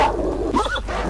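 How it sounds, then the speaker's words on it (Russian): Dogs bark and growl in the video game S.T.A.L.K.E.R. Shadow of Chernobyl, a short, rough burst of canine calls over a low, steady ambient rumble. "А тут собачки."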